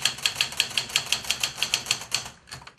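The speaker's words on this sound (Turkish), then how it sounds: "Kullanımı yaygınlaşan bilgisayar ve yazıcı sistemleriyle birlikte tarihe karışan daktilolar" A mechanical typewriter at a repair shop clacks in a fast, even run of about fifteen crisp keystrokes, close and alone, before a brief pause.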